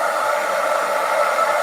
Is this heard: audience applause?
no